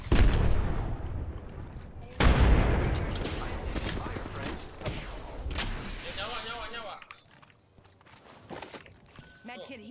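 Frag grenade blast and bursts of gunfire in the Apex Legends video game, a loud explosion, then a second heavy boom and rattling shots that fade to quieter clatter, with game voices mixed in.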